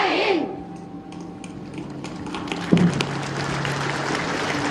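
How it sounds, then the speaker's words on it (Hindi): Applause breaks out at a Bihar oath-taking ceremony for trainees held for the 75th Amrit Mahotsav. Scattered claps run for several seconds alongside a speaking voice and some crowd noise. "जोरदार ताली।"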